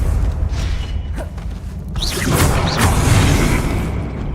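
The Confringo blasting spell from the game Hogwarts Legacy comes through as loud rumbling booms and whooshing bursts, with crackling impacts layered over a heavy low-end roar throughout.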